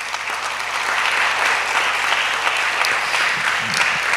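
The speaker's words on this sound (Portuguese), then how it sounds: "a quem eu já peço uma salva de palmas" At a university debate event, the audience gives steady applause for cultural figure Eduardo Saron, a loud dense clapping crowd that holds even throughout, with a faint low murmur underneath.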